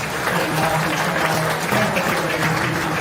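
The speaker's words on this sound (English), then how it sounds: "Let's give all of our market animal exhibitors out here a round of applause." Spectators applaud market animal exhibitors at a county fair beef show, a moderate spread of clapping in an open arena with murmuring voices and a low hum underneath.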